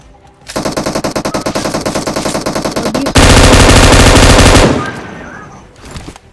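M249 machine gun fire in a video game, a loud, close burst of rapid evenly spaced shots that turns into a dense continuous roar, then cuts off abruptly and leaves a faint tail.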